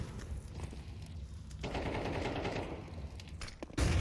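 Counter-Strike 2 gunfire shooting through a wall, rapid automatic bursts that start sharp and close, then thicken into a dense rattling volley, with footstep-like thuds near the end.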